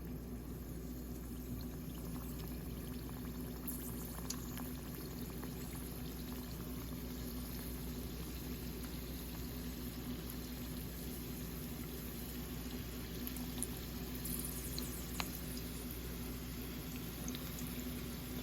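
Sesame honey sweet dough fries in hot oil, a soft steady bubbling sizzle that continues evenly throughout with only faint, occasional small pops.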